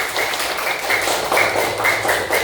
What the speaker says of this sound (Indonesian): tepuk tangan yang paling keras